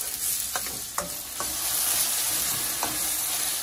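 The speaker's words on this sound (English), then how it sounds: "So now I'm gonna put the sweet peppers into the pot, and I'm gonna leave this to fry up also." Sweet peppers and seasoning fry in a pot, a loud, steady sizzle with several sharp scrapes and clinks of stirring, close up and without talk.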